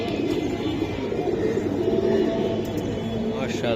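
Pigeons of fancy flying breeds cooing among a group of birds for sale, a soft, low burble that stays steady under general background noise and faint voices.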